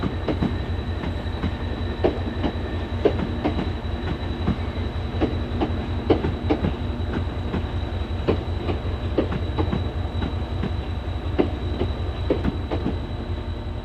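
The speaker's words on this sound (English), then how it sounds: "the Class 375 Electrostar, departing from Platform 4 bound for Charing Cross" Class 375 Electrostar electric train leaving Platform 4, a steady close rolling rumble with regular wheel clicks over rail joints and a sustained high electric whine, continuous and fairly loud without voices.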